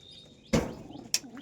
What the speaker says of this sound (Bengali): মাদির ঘরেও বেশ অনেকগুলোই পায়রা আছে